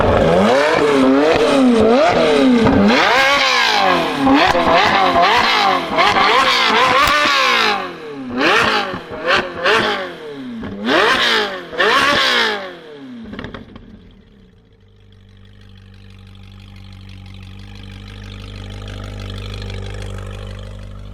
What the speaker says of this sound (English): put the engine start button in and let it run.